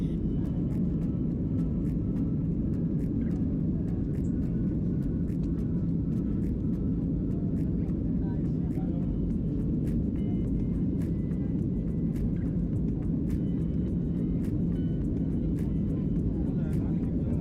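A steady, loud cabin roar and low rumble fill a passenger airplane in flight from Kuala Lumpur to Langkawi, a constant drone with faint clicks and no break.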